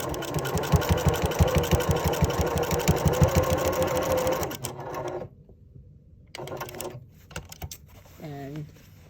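A sewing machine stitches a denim tote bag made from upcycled jeans, running in a loud, fast, steady burst for about four seconds before stopping, followed by quieter handling sounds and a brief voice.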